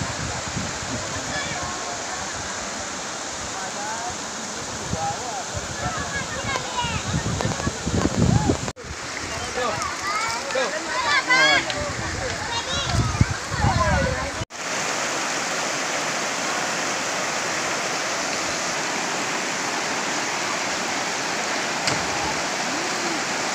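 River water rushes steadily at Batang Aye in Pasilian while someone bathes in the river. The loud, continuous flow carries splashy bursts, and voices come and go over it before the water settles into an even roar.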